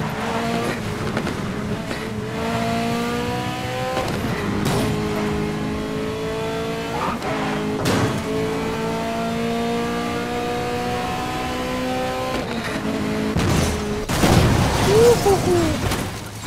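Alfa Romeo engine climbing through repeated gear shifts while racing in Need for Speed: Most Wanted, each rising whine cut by a sharp shift, loud and close, with a rough burst of crashing noise near the end.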